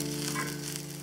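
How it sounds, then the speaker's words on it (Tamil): Sliced onions sauté in a pan with a piece of ginger and four garlic cloves, giving a steady, soft sizzle that runs for a brief moment, close and low in level with no voices. "ஆட் பண்ணி நல்லா வதக்கிக்கோங்க."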